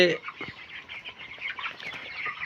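Broiler chickens in a poultry farm shed cluck in a dense, continuous chatter of overlapping calls, close and moderately loud, with no voice standing out above the flock.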